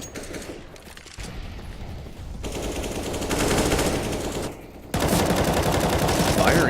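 Heavy gunfire in a Counter-Strike match at the bottom of mid, dense machine-gun bursts and rapid fusillades that grow louder and more continuous, ending in a sustained loud volley.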